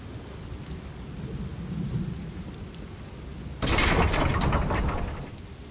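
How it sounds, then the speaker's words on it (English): A thunderstorm in the video game Elder Scrolls Online at Sea Keep: steady rain patters under a low rumble, then a sudden loud crack of thunder rolls and slowly fades. "How often are we going to see a tempest like this in one lifetime?"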